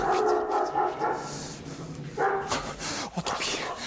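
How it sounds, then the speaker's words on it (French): A dog yips and barks in short bursts amid lively voices. "Je dirais que c'est le chien"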